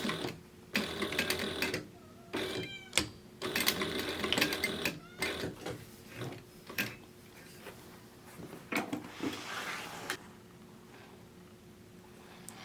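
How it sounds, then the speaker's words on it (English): A sewing machine backstitches a seam on a fabric book bag, running in short rapid stitching bursts separated by pauses and clicks, near and clear with no talking. "And then I'm going to backstitch."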